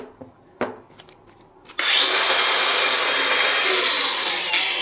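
A DongCheng DCSM04-100 cordless angle grinder starts after a few small knocks and clicks, then runs at a loud, steady high-pitched whine for the rest of the time.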